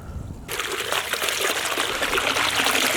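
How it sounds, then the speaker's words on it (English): A pond pump starts shooting a stream of water into a bait pond, and a steady splashing rush of flow continues close by after it kicks in. "Okay, that's a pretty good flow of water."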